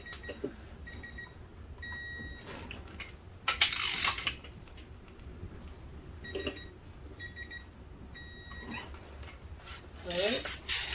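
Metallic clicks and clinks of a torque wrench tightening a bolt during assembly of a 351W engine, sparse and close in a quiet shop, with a few louder ratcheting bursts.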